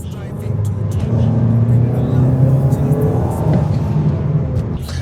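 Mazda CX-5 rolling over speed humps, a steady low engine and road rumble that stays muffled inside the cabin, with a couple of soft thumps as the wheels cross the bumps.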